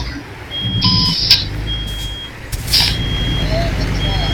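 A truck's reversing alarm sounds a few high steady beeps over a loud low engine rumble, heard from inside the cab with people talking nearby.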